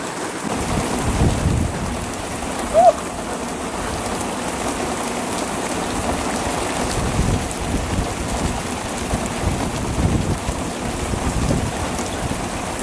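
Steady rain patters on a rooftop throughout, with low rumbles of thunder rolling underneath and one brief sharper knock.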